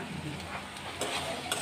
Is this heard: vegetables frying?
yes